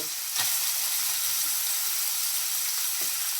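Whole fresh fish fry lightly in hot oil in a pan, giving a steady close sizzle with a couple of soft knocks from stirring and no voices.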